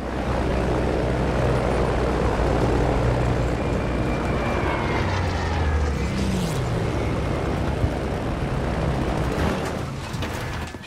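A propeller warplane in Battlefield V drones steadily and loudly throughout, a dense engine roar with a brief pitch sweep midway, over game sounds with no talk.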